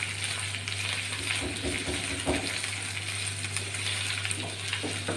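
A spoon stirs sugar into carrots in a pan, with scattered scraping clinks over a steady low hum and faint sizzle.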